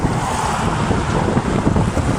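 Flooded Sutlej river water rushing near Bahawalpur, a broad steady roar of flowing water mixed with strong wind buffeting the microphone, loud and continuous with no voices.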